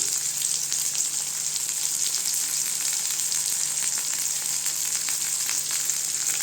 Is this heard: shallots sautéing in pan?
yes